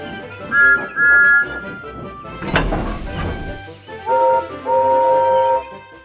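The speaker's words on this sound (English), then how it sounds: "Guard blew his whistle, and waved his flag." A railway guard's shrill whistle blasts, a couple of short toots then longer ones, with a burst of hissing steam in between.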